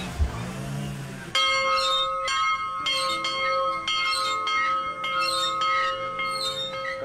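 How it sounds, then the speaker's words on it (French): A village bell in French Guiana rings out to announce a doctor's arrival for consultations, loud repeated metallic strikes with long ringing overtones, sounding steadily without talk. "Donc pour prévenir l'arrivée du médecin dans le village, on sonne la cloche."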